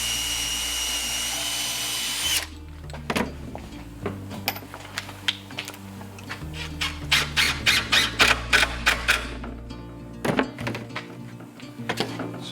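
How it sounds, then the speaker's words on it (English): A power drill pre-drills a cabinet backer piece during a cabinet retrofit. A steady motor whine runs for about two seconds, followed by a run of sharp, close knocks and clicks. "So here we go, pre-drill."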